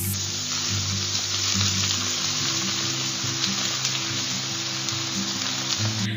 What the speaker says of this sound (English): In this I will add cooked rice.